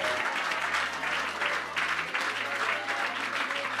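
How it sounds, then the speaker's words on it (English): A church congregation claps continuously, a dense even wash of hands close and full, with a low sustained hum underneath. "Are you clapping?"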